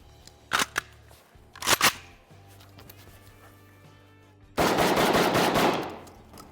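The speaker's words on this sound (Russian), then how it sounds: "Стреляем!" A Vepr-12 semi-automatic shotgun fires 28 g Azot shells loaded with number 5 birdshot. Two loud, close reports ring out, followed by a longer, rough roaring burst.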